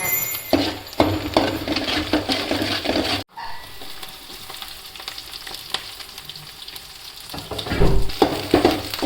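Curry leaves hit hot oil for a leftover-rice fried rice tempering and sizzle hard, a loud close crackling hiss with a brief dropout partway, then the frying roars up again.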